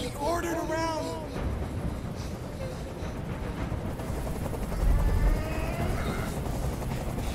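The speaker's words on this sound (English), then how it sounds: "I can't stand that noise anymore. Tell that helicopter to get out of here." A helicopter hovers overhead in the video game Detroit, giving a loud, steady, rumbling drone throughout, with brief voice-like tones near the start and again midway.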